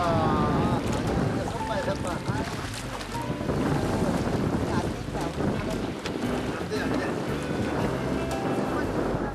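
Wind gusts buffet the microphone outdoors near the water off Geoje island, South Korea, during net fishing, with people talking over the rushing noise and occasional splashes.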